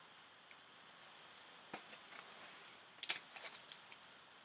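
Reusable tape peeled off cardstock after brushing on colour, heard as faint, close crackling and ticking snaps that cluster into a short burst of sharper peeling clicks toward the end.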